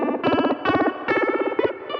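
Electric guitar through a Max Pedals Phaser Beam phaser pedal in mode 2, giving a fast, swirling, warbling sweep over repeated notes in several loud bursts, with no voices.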